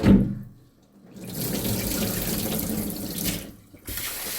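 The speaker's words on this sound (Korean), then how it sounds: "그 다음에 깨끗이 씻어야 정말 쌀이 깨끗하게 씻어지거든요" Rice being rinsed in a kitchen sink under a running tap: a steady close rush of water that pauses briefly twice, with splashing and gurgling throughout and no talking.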